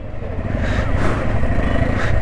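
A motorcycle rides through busy city traffic in Mumbai, with a steady, close engine drone and road rumble that holds throughout.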